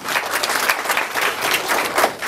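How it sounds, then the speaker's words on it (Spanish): Wedding guests applaud the groom at a reception, a loud, continuous burst of many hands clapping close by, thick and even throughout with no talking over it. "¡Aplauso para él!"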